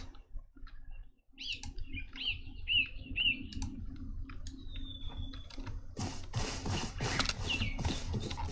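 Ambient birdsong in an Unreal Engine 4 fantasy online role-playing game, several bright chirps and a whistled call over a quiet bed, followed by a denser burst of clicking and rustling near the end.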